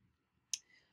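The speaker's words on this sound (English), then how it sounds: "if I click edit" Single sharp computer mouse click, quiet and close, alone in a near-silent room.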